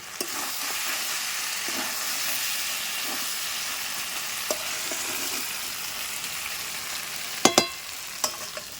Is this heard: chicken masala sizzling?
yes